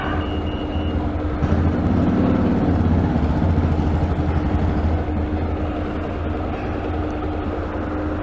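A 350 motorcycle engine idles steadily on a main street in Hebden Bridge, a continuous low throbbing hum at close range with traffic rumble around it and a faint high beep early on.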